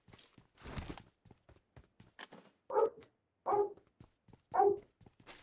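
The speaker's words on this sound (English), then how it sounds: "Yeah, that's my dog, buddy. Rottweiler." A Rottweiler barks three times in a steady rhythm, loud and fairly close, following scattered footsteps and clatter in the background.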